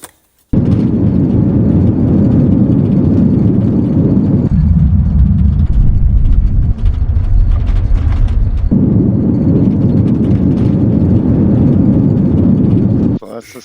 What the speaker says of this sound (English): So that's the sound you're going to hear when you've got your flaps extended in this plane above 110 knots